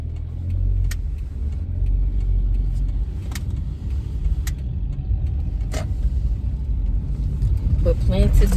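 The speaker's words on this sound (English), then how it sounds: "wait on this car to go." A car on the road gives a steady low rumble that holds for several seconds and swells slightly at the end, with light clicks and a voice briefly audible near the close.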